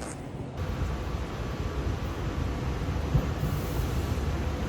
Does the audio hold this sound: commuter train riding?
yes